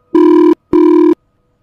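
A telephone rings twice in short electronic bursts with a brief gap between, clear and close, then silence.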